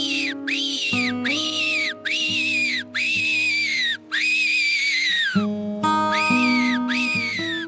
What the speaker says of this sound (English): extraordinary pictures of foxes lured into range by his whistle